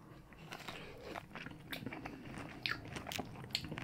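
Close, quiet bites and chewing into fresh pineapple, soft wet crunches repeating irregularly with a couple of sharper crisp snaps, with no talking.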